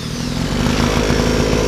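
A two-stroke engine cranked by hand with a socket on the flywheel nut, giving a steady, loud, buzzing drone that runs continuously and close throughout, without speech.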